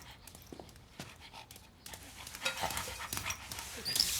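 A dog indoors pants in quick, uneven, breathy puffs, faint at first and louder toward the end, with a small whimper-like sound mixed in.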